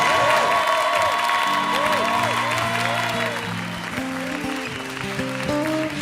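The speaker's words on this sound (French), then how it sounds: "Allez-y, applaudissez." A comedy-show audience applauds the musicians, a dense, sustained roar of clapping and some cheering over which instrumental music plays throughout.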